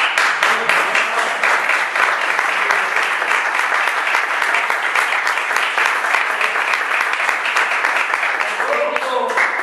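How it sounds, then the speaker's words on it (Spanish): Audience applause at a political rally in Viladecans, Spain, steady dense clapping from a large crowd held at a constant level throughout. "Un aplauso, por favor."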